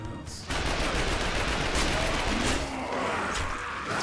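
Rapid bursts from an MP7 submachine gun in The Darkness 2 crackle close and loud, starting abruptly and rattling on almost continuously amid general combat noise, with no one talking over it.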